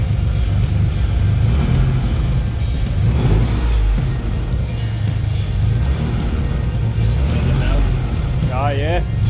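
A car engine runs steadily with a low rumble and a rough, over-fuelling note while it leaks fuel. A short rising squeal sounds near the end and talk runs underneath.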